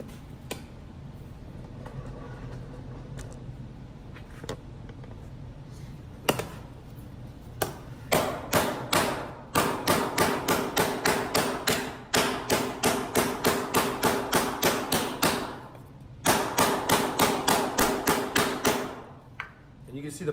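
Rapid, evenly spaced hammer blows tip the edge of a compound-curve metal panel, walking along the edge in long bursts with short pauses; sharp metallic strikes sound close and loud, with a few isolated taps before the steady runs.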